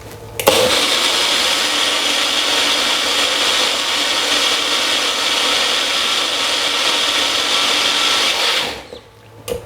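A kitchen blender runs loudly and steadily at close range for about eight seconds, with a constant whirring roar, then cuts off abruptly, leaving near silence.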